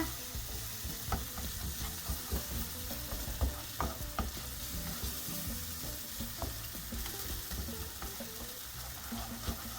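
A sour cream sauce for hake sizzles steadily in a frying pan while a utensil scrapes and clicks through it in an uneven stirring rhythm.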